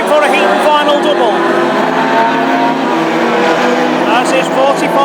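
Hot rod race cars lap an oval track at Hednesford, engines roaring loud and continuous as several cars pass close together, with a commentator's voice over the racing.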